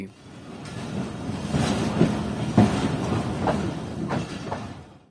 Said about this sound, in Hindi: उसके बाद आता है जैकबाबाद रेलवे स्टेशन जहां पर हमारी ट्रेन इस वक्त पहुंच रही है।